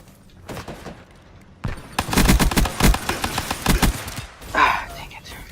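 MR6 pistol fired in a video game: a rapid burst of sharp, close gunshots lands in quick succession, with a few isolated shots before it and a short flurry after.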